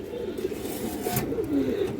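An army pigeon coos softly and continuously close by, a low steady murmur with a brief brighter rustle partway through and no voices.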